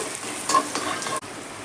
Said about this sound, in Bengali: ফোড়নটাকে আমি কড়াইয়ে দেখুন খুব ভালো করে ভেজে নিচ্ছি